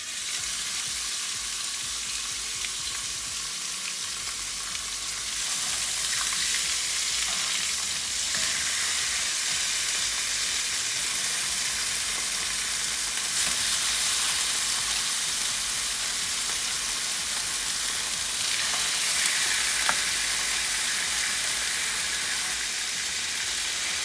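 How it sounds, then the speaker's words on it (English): Steak pieces sear in hot oil in a pan for a Latin steak and onions dish, a continuous close hissing sizzle that swells louder as more meat goes in, with no talking. "I'm just gonna start to sear these, just to lock in some of that flavor and give a nice color."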